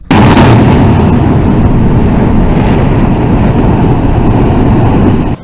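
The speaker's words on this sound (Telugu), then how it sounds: "మొగులకు దాకేటంతా ఎత్తున్న 8 కూలింగ్ టవర్లు అందరు చూస్తుండగానే తుప్పుక్కున కూలినాయి. కాదు బాంబులు పెట్టి కూలగొచ్చేలు." Eight tall thermal power station cooling towers are brought down with explosives, a sudden loud blast followed by a sustained heavy rumble of collapse that fills the whole stretch before cutting off.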